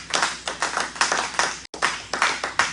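A church congregation claps in quick, steady rhythmic bursts during worship, loud and close, with a brief break partway through and no talk over it.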